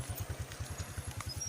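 A motorcycle engine idles nearby with a fast, even low putter and faint rattles, fairly quiet and brief with no voices.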